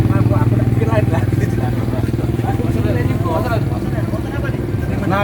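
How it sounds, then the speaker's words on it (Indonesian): A Honda Vario motor scooter rides past, its steady buzzing engine drone running throughout beneath people talking nearby. "itu motor Vario"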